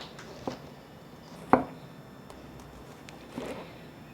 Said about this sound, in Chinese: 接着可以转过来切成小丁了，这样子就很方便，可以切出小丁状